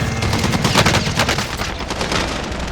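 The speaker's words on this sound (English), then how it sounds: "Shooting at me." Dense automatic gunfire in the battle royale shooter Call of Duty Warzone, loud and continuous bursts overlapping throughout with no pause.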